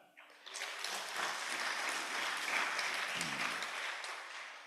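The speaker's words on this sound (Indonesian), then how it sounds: "Jadi tepuk tangan untuk perempuan-perempuan." A congregation at a church sermon in Papua breaks into steady, sustained applause that fills the room, with no talk over it.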